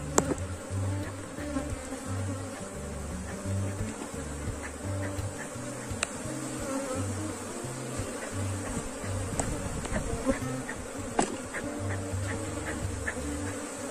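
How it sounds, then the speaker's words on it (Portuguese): A populous honeybee colony buzzes steadily in an open hive, a dense, continuous drone close by, with faint tapping and handling sounds from the hive work. "Vendo só, gente, um enxame super populoso e bem controlado."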